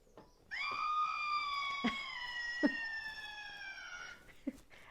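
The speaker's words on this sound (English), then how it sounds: "And that dog screaming sound effect." A loud, drawn-out high-pitched yelp or scream holds for several seconds, with a few sharp clicks and knocks around it in a quiet setting.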